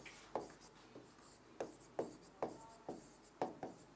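A teacher writes on a board during a lesson, chalk strokes tapping and scraping in an irregular rhythm of about a dozen short marks, close and quiet, with no speech over them.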